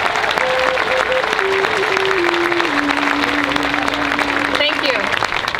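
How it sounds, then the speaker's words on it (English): An audience at a talk on oil pipelines gives a round of applause, dense and loud throughout, with a voice or whistle carrying a held tone over the clapping. "please give a round of applause for Ariel Deranger."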